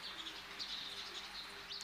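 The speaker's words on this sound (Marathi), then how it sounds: "आता ह्या चिमण्या बघा, किती एकमेकींशी भांडत आहेत" Sparrows squabbling and chirping nearby, a faint, thin scatter of high chirps over a soft steady background hiss.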